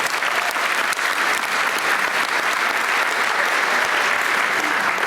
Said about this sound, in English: Let's give a round of applause for all the teachers and administrators involved.